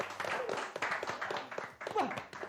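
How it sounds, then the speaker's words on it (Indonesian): Small audience clapping at a sports talk event, a short burst of scattered, uneven handclaps, fairly faint and close, fading and restarting over a couple of seconds. "Tepuk tangan lah."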